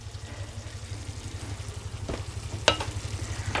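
Masala of onions and tomatoes cooks in a pan with a soft, continuous sizzle under a low steady hum, broken by a couple of brief scraping clinks near the end.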